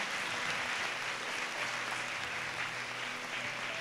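A congregation at a church prayer gathering claps loudly, a faint, steady wash of many hands heard from a distance with a low hum beneath, no voices on top.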